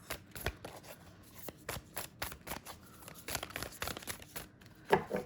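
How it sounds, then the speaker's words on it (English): Quick, rhythmic riffling and flicking of tarot cards being shuffled close up, in repeated short bursts with no talking. "I wasn't on camera shuffling, but you can hear it."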